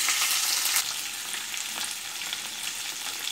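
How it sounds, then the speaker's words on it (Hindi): Capsicum shallow frying in a little oil, giving a loud, steady, close sizzle that continues throughout with faint stirring. "तो अब मैं इसमें डाल दूंगी शिमला मिर्च, सेलो फ्राई करूंगी इसे।"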